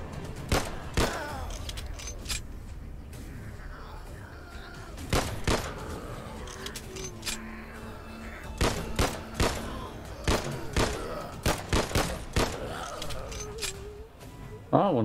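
Gunfire in the zombie shooter game Abandoned World: sharp loud shots, some single and some in quick bursts, scattered across the span, with someone talking between and over them.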